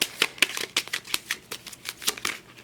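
A deck of cards being shuffled by hand, a quick run of crisp riffling bursts with short gaps, close and fairly quiet, with no talking.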